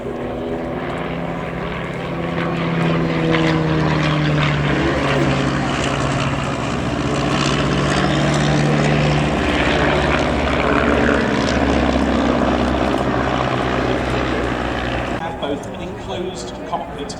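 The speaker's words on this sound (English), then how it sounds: "the 3-seat DH-80, the Puss Moth, which was the middle aircraft in that formation" A de Havilland DH-80 Puss Moth three-seat propeller monoplane flies in formation at an airshow, its engines giving a steady loud drone that swells and holds before easing slightly near the end, with a voice talking over it.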